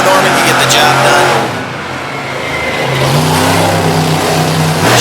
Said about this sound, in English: Showing off the big Ford horsepower in the Bigfoot 18 machine.